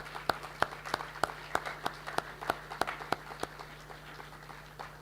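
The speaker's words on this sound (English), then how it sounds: "Let's give the students from the Ignatian houses a round of applause." Scattered, sparse handclaps from an audience at a school Year 12 induction ceremony, honouring students from the Ignatian houses; a dozen or so sharp, evenly spaced claps ring out in a hall over a steady low hum.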